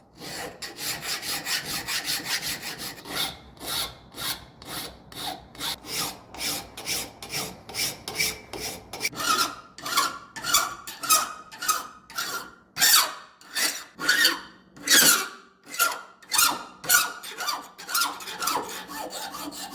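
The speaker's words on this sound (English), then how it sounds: "I'm gonna flatten it out with a file first to make sure I got a nice flat surface to scribe my line" A steel file rasps back and forth across a forged whittling knife blade, steady repeated strokes close up, quickening and growing louder and sharper toward the end.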